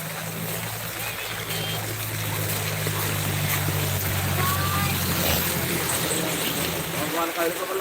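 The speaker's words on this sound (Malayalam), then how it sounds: "പുഴയും പാലും സെയിമായിട്ട് ഒഴുകിക്കൊണ്ടിരിക്കുന്നത്" A flooded river runs over a bridge after the Peechi Dam is opened, the Kannara river giving a loud, steady rush of water. A low motor-like hum sits under it for the first few seconds.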